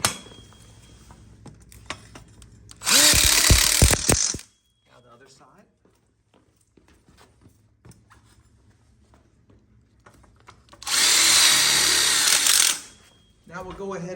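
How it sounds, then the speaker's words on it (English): An impact driver drives hex head screws into an outdoor kitchen module frame in two loud, short bursts of rapid hammering, separated by a quiet pause with faint handling noises. "We'll take our impact drill and we'll lock this in with our hex head screws."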